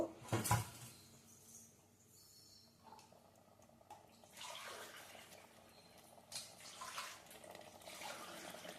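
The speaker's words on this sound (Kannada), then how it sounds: "ನೀರು ಹಾಕ್ಕೊಬೇಕು" Water pours into a cooking pot while making coriander-mint pulao, a splashing, gurgling stream that starts and stops in several bursts, with a sharp clatter near the start.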